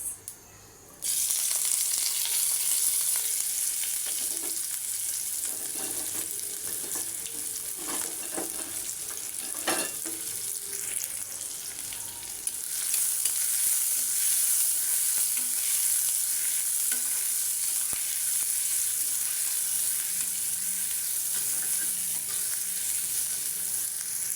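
Onions fry in oil with panch phoron for beef singara filling, a loud steady sizzle that jumps up as they hit the pan, broken by occasional stirring scrapes and clinks, with no one speaking.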